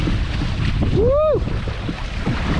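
Steady wind rushing and waves washing around a small sailboat on the ocean, a constant close roar with buffeting on the microphone, broken by a brief whooping voice.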